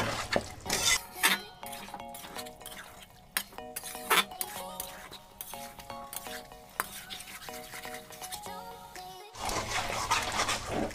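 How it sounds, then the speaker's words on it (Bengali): Chicken for a spicy creamy kadai chicken is stir-fried in a pan, with a spatula repeatedly scraping and clinking against the metal in an uneven rhythm, close and moderately loud, with no talking. "এবার আমি মাংসগুলোকে খুব ভালো করে কষে নেব।"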